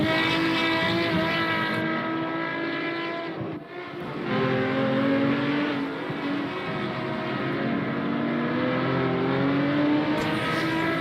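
Sustained, high-revving five-cylinder Procar race car engine from a video game, droning loudly and continuously with a brief dip as it shifts or lifts around the fourth second, then climbing again, with no voices over it.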